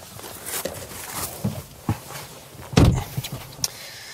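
Frameless door of a BMW 2 Series Gran Coupe being handled, a few light clicks and shuffles leading to one firm, close thud as it shuts, then small trailing knocks.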